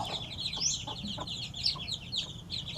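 An Aseel and American fowl crossbreed hen clucks in short bursts over a noisy farmyard, with high chirping from her chicks scattered throughout.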